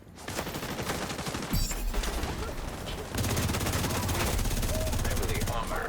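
Rapid automatic AK rifle fire in a video game, long continuous bursts of closely spaced shots, loud and near, with a brief pause before an even denser stretch of firing.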